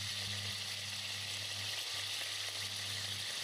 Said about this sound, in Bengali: এই তেলেই আমি এক এক করে সব মশলা ফোড়ন দিয়ে দেবো। গোটা জিরে, তেজপাতা, দারচিনি,